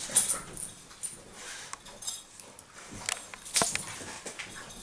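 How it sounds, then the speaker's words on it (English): Puppies snort, snuffle and squeak while playing nearby, giving a scattered run of wet, snotty nasal noises and small clinks, with brighter bursts near the start and again later. "there will always be snotty dog noises in the background while they play"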